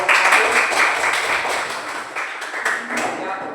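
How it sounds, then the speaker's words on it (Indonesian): Students in an Indonesian classroom applaud a group with a burst of dense, loud clapping that gradually thins and softens over a few seconds. "Tepuk tangan buat kelompok"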